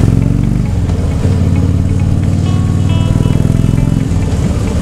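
A motorcycle fitted with a Testec exhaust that can be switched on and off electronically, on a group ride in India, gives a loud, close, steady throbbing engine rumble with slight shifts in pitch as it revs.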